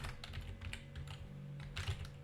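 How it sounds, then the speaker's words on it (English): Rapid, irregular typing on a computer keyboard while entering a folder path for compiling a Halo CE map level, keystrokes clicking close and steady over a low background hum. "Then you type the directory to your thing"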